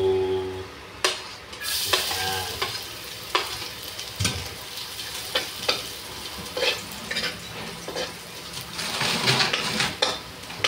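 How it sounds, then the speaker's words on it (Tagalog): Garlic is sautéed in hot cooking oil in a pan, a continuous loud sizzle and fry with repeated clicks and scrapes of a stirring utensil against the pan close by, with no talk. "Mainit ang ating mantika. Gigisa na tayo."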